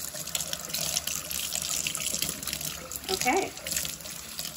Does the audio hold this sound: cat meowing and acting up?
no